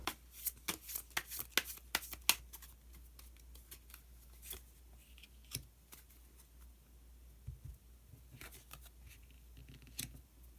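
Tarot cards are shuffled close by in a rapid flurry of soft, crisp slaps and riffles, then a few scattered taps and slides as a card is drawn, quiet and without talk.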